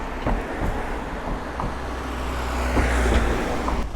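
Cars pass by on a road in Interlaken, Switzerland, a steady roadway rumble that swells slightly as a vehicle draws near, with no speech over it.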